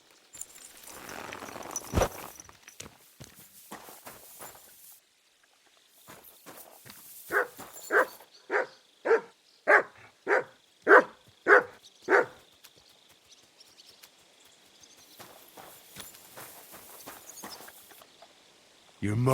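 A dog in the video game Kingdom Come: Deliverance 2 lets out a run of about ten evenly spaced, moderately loud barks in a steady rhythm, with faint ticking steps and scattered knocks before and after.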